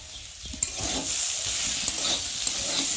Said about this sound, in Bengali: আলু ভাজা হয়ে গেছে দেখতে পাচ্ছ কত সুন্দর আলু ভাজা হয়ে গেছে